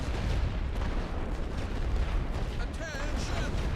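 Artillery barrage in the video game The Great War: Western Front, a dense continuous roar of distant booming guns and blasts that rumbles on without a break, while a voice speaks over it.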